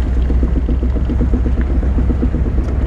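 A 1971 Cadillac Eldorado idles with a loose exhaust, giving a low steady engine rumble overlaid by a fast repeating rattling pulse, close and continuous.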